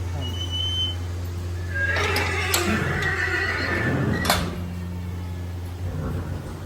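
A main mare at the Fateh stud farm gives loud, close whinnies, with a long neigh in the middle and another shorter call near the end, over faint background hum and a few soft hoof and stable knocks.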